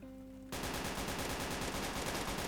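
Rapid automatic gunfire from a gun in the video game Prison Roleplay, a loud continuous burst of shots starting abruptly after a quiet moment and lasting to the end.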